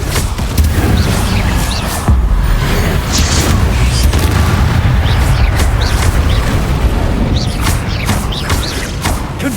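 The Confringo explosive spell bursting in Hogwarts Legacy, a loud continuous rumble of booming blasts with sharp pops and crackling debris and no speech heard.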